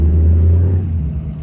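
A 6.7 Powerstroke compound turbo diesel with a suspected injector fault runs steadily close by, a loud low rumbling drone that eases slightly after the first second.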